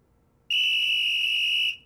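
A child blows a whistle at home, a single shrill, steady high-pitched blast held for just over a second with a brief tail, loud and close against a quiet background.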